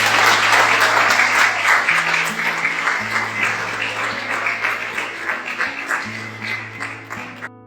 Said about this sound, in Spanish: Aplausos para ustedes.